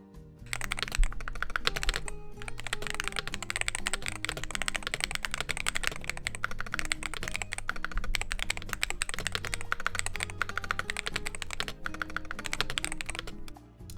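Rapid, steady typing on an Ace 68 Turbo mechanical keyboard, dense overlapping keystroke clicks that stay loud and close for the full stretch with hardly a pause and no talking.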